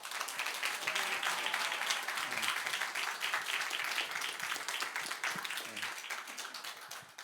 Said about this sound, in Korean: 우리 선교사님 나오실 때 박수와 할렐루야로 우리 환영하겠습니다.